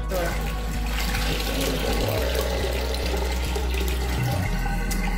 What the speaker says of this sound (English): it's gonna be all this noise from uh, pouring this water out